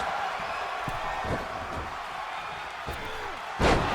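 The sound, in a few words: wrestler slammed onto his back in the ring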